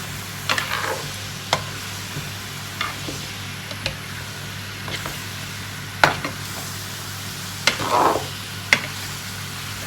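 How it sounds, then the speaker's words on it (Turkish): Onions and zucchini being stirred in a pan, soft sizzling frying under a series of spoon scrapes and taps at irregular intervals, fairly quiet and close, no talking. "Şimdi şöyle güzelce soğanı ve kabakları karıştırıyorum"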